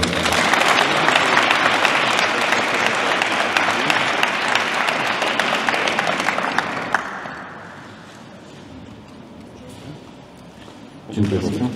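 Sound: applause

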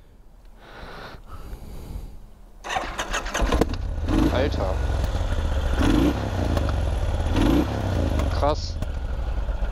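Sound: motorcycle engine starting and idling

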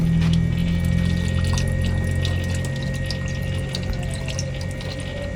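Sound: water pumped from a hand pump and poured for drinking

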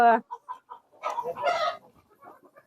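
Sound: chickens clucking while feeding

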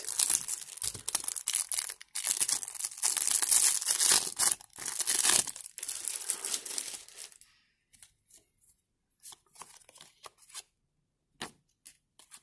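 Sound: tearing open Match Attax trading card packs

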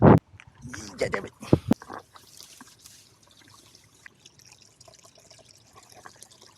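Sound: water falling and trickling beside paddy fields

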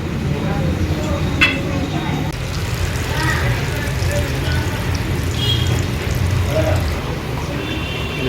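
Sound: vadas frying in a Konkani restaurant kitchen

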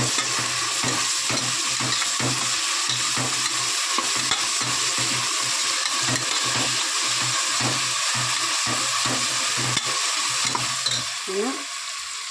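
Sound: onions frying in hot oil

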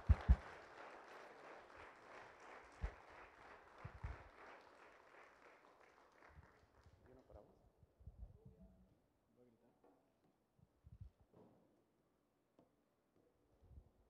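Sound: congregation applause

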